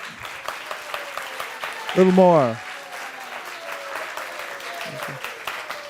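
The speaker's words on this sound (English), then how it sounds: "One more round of applause" Listeners at an ISKCON temple gathering applaud after a talk, the steady patter of hands running under a voice, with a brief raised vocal call in the middle.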